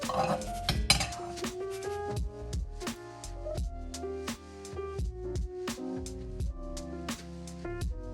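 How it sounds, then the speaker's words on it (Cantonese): Chopsticks tap and scrape against a wok while lifting the edge of a thin fried egg crepe, giving a quick series of light metallic clinks and ticks in a quiet kitchen, with no talk. "用筷子喺皮邊撩一撩"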